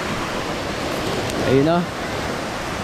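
Sea surf rolls onto the shore at Alasanay, Aurora as a loud, constant broadband wash with a brief swell in the middle, while a voice speaks briefly over it.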